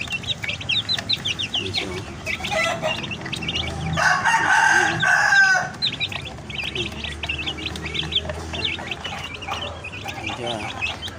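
A sick chicken clucks repeatedly close by and gives a short strained crow in the middle, while a person talks quietly over it.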